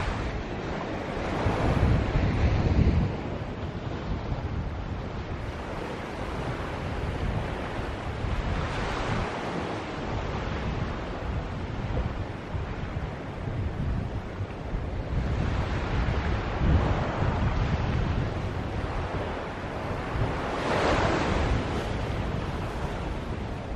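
Ocean waves on an incoming tide roll steadily onto a flat beach, a continuous broad wash of surf with swells building and breaking every few seconds, heavy wind buffeting the microphone throughout.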